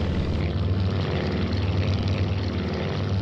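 Ki-27 propeller plane in a flight simulator taking off, a loud, steady droning engine and propeller hum holding constant throughout.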